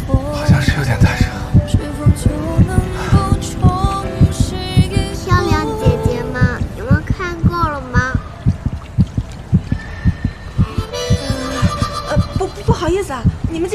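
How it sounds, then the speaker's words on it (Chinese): A heartbeat phone ringtone plays loudly and close, a steady throbbing pulse repeating throughout while people talk over it. "那个心跳声是我手机铃声"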